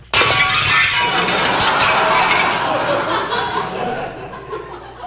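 A football smashes through glass French windows in a comedy record sound effect: a sudden loud crash of shattering glass, then a long, dense tinkle of falling shards that slowly fades, with faint laughter mixed in.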